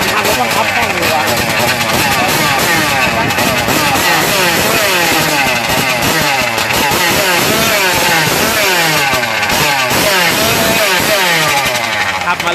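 A remote-control longtail boat driven by a brush cutter engine runs loud and steady, its high buzzing whine rising and falling in pitch as it revs and races across the water, with voices talking over it.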